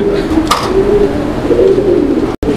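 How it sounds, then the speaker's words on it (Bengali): A coloring golla pigeon coos close by, a soft low rolling coo repeated over a couple of seconds against steady background noise. "এটা কালারিং গোল্লা কবুতর"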